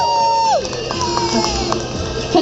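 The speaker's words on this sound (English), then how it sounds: "Give a round of applause" A crowd at a car show pageant in Bell Gardens, California cheers and shouts loudly for a contestant, with voices and whoops piling up close by over a short burst.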